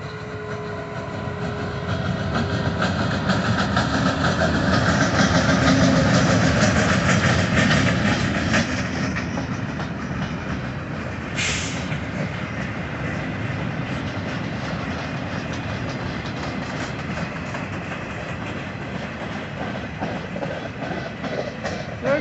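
A Union Pacific local train led by a single locomotive, UPY 1008, rolls steadily past a grade crossing. The steady rumble and rail clatter swell as it passes close by, with a brief high squeal partway through.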